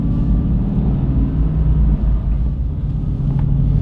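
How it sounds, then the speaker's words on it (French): A Mercedes-AMG GT S Edition 1 runs with its big V8 engine, a loud, steady, deep rumble that holds even and unbroken throughout, with no talking. "quand on entend le gros V8, on n'a pas besoin de musique"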